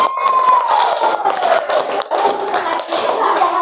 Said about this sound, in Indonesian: kasih tepuk tangan dulu buat kelompok auditori